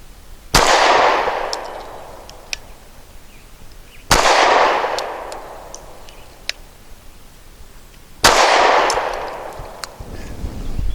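Three loud, evenly spaced shots from a Walther PPS M2 pistol firing inexpensive aluminum-cased range ammo, about four seconds apart, each with a sharp crack and a long ringing outdoor decay, plus faint clicks between.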